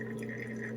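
Water trickles steadily through a plastic pour-over coffee maker, a continuous close, soft splashing stream with faint liquid detail and no talking.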